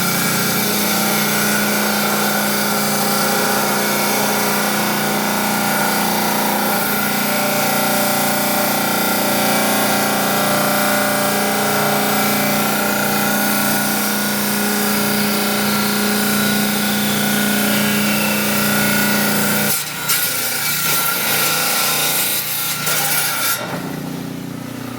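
A rock saw cuts steadily through copper-infused basalt, a loud continuous grinding drone with a sustained hum, heard up close and alone until the blade winds down near the end.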